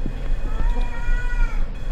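A cat meows in the video game Erie, a drawn-out wavering cry over a low rumbling background. It is fairly loud and sounds alone, with no talk.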